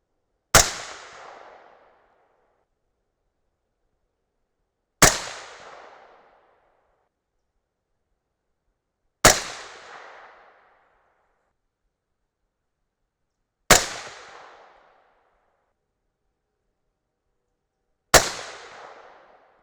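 Five sharp rifle shots from a .223 Rem loaded with 62gr Hornady BTHP bullets over H4895 powder, fired alone at slow, even intervals of about four to five seconds. Each loud crack rings out into a short, fading echo.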